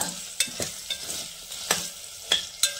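Something sautés in a pan for a Tangapal Sadham rice dish, a quiet sizzle punctuated by several sharp scraping strokes of a spoon against the pan at irregular intervals.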